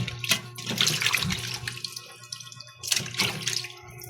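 Hot water runs from a kitchen tap while squid is rinsed for adobo, a close, loud gushing splash that swells, eases briefly and surges again.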